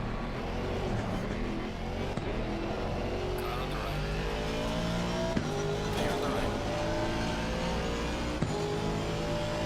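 Race cars roar around Paul Ricard in a sim racing game, engines droning and shifting pitch with occasional tire squeal, under excited talk.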